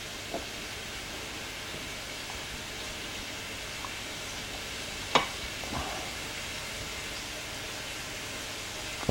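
Ground meat browns in a pan with a soft, even sizzle, fairly quiet and continuous, broken by a few brief knocks and clatters.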